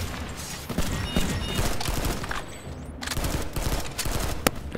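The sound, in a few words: new battle rifle firing on automatic mode in a video game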